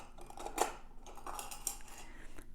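Scissors snip through waste yarn on a knitting machine project, with a crisp metallic click near the start and a few lighter snips and rustles afterward, close and quiet.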